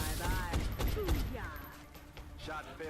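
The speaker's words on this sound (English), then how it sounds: "the soldiers waste no time in opening fire" Soldiers open fire in the game XCOM: Enemy Unknown. A cluster of quick gunshot bursts comes in the first second, mostly under a voice that talks throughout.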